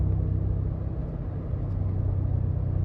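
A Mercedes G-Class AMG 63 SUV's engine rumbles low and steady as it rounds a turn, a deep throaty drone heard from inside the vehicle with no talking.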